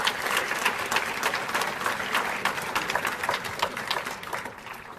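An audience at a college athletics awards celebration breaks into a big round of applause, fairly faint and distant, with many hands clapping in a dense, even patter that gently fades toward the end.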